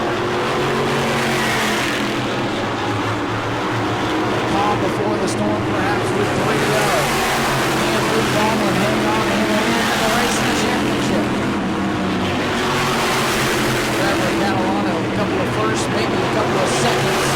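Modified race cars roar around the New Smyrna track in the Grandpa Blewett Memorial Mod race, a loud continuous engine drone that swells and fades as cars pass, with an announcer talking over it.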